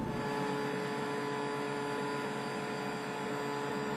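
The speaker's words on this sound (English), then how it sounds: "take the blank key, insert it into the vice jaw, clamp it in place, lower the shield, and press the start button" An Ilco Tri Code high-speed key duplicator cutting a blank key clamped in its vice jaw: a steady, loud, whining motor hum with a continuous grinding buzz, unbroken for the whole stretch.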